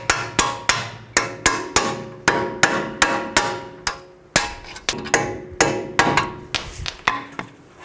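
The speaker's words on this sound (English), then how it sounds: "Now just take a punch and a hammer and just tap the bolts out" A hammer strikes a punch to drive the strut bolts out of a 2007-11 Honda CR-V front knuckle, about twenty sharp metallic taps in an uneven rhythm with ringing decays, close and loud.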